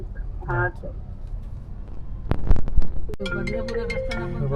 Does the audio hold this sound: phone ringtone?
yes